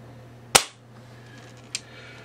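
UTG Gen5 airsoft sniper rifle firing a single BB: one sharp, close snap with a brief ringing decay, followed about a second later by a faint, small click as the BB strikes its target.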